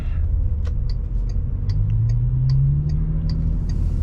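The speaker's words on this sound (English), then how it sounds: "VW parts using here, because I recognize them, the sounds of the indicators" A 2004 Bentley Continental GT 6.0 W12 turn indicator ticks in a steady, evenly spaced series of crisp clicks over the low rumble of the engine and road inside the cabin, with no talking.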